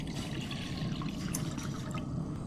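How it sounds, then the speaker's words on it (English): Water running into a cooking pot on the stove before blanching green beans, a continuous close splashing pour with a bright, airy hiss, heard alone without talk. "Add some water."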